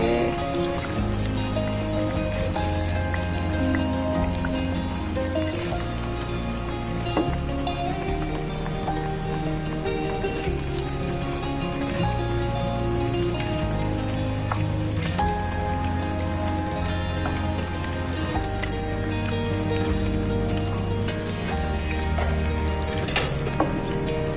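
Tempe mendoan fries in hot oil with a dense, steady sizzle and crackle that holds for the whole stretch, close and even, with occasional faint clinks of a pan or utensil.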